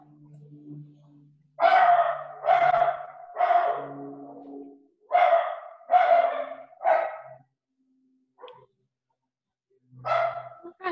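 A dog barks loudly and close in short bursts, roughly eight sharp barks spread across the stretch with pauses between them, and no talking.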